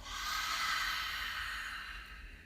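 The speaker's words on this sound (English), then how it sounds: "Take an exhale out through the mouth" A deep exhale out through the mouth during a yoga flow, one long, close, breathy rush of air that swells and then slowly fades.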